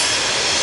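Loud, steady rumble and hiss of a train going by close at hand, filling the whole moment with no other sound.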